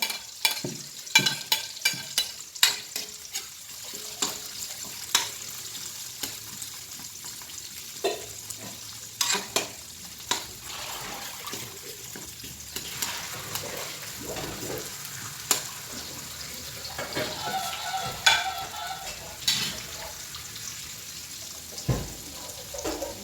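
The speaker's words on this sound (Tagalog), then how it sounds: "Then, ilunod na to ang bombay." Onions sizzle and fry in a pan for Boholana-style pork steak, a steady soft crackle with scattered sharp ticks and clatters of utensils, close but fairly quiet, with no voices.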